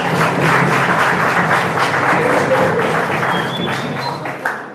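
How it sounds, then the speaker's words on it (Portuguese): A congregation at a church sermon gives a round of applause, dense clapping that holds steady and then tapers off, ending with a single louder clap. "Vamos dar um lido aplauso."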